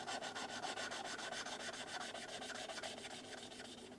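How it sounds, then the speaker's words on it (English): A valve seat being lapped with grinding paste gives a soft, steady rasping rub repeating in quick regular strokes, faint and close, with no voices. "Just this sound until it goes away, and then smear the paste out on the surface again and again."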